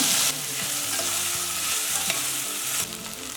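Vegetables and a large tomato frying together in a pot for a one-pot meal, a loud, dense, crackling sizzle that runs steadily throughout with a faint hum underneath.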